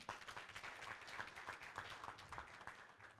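An audience at a university debate event in Fiji applauds, with dense, steady clapping from many hands throughout, no voices over it.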